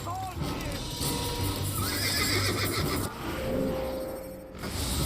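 In the Assassin's Creed video game, a horse neighs and its hooves clip-clop steadily over the ground, close and clear against the game's ambient bed, with a voice talking over parts of it.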